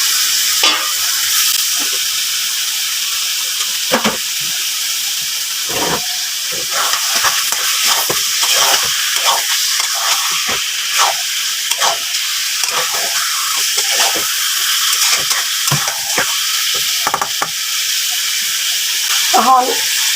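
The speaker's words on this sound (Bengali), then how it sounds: "এখন আমি দইয়া রাখা মাংসগুলা দিলাম।" Marinated beef hits hot spiced oil for a beef bhuna with hatkhora citrus, giving a steady close sizzle and hiss with repeated clatters of a spoon stirring the pot throughout.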